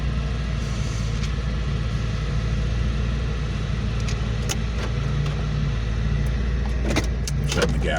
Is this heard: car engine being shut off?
yes